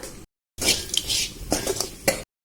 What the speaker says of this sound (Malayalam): നന്നായി വഴറ്റിയെടുക്കുക.